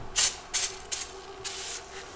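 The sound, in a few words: spraying Super Clean cleaner into a gauge cluster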